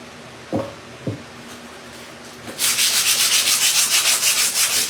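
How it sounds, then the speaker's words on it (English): Sandpaper rubbed diagonally across fence boards, starting after two light taps, then a steady run of quick, rhythmic, scratchy strokes close by and fairly loud, with no talking. "I just wanted to touch it with some sandpaper also"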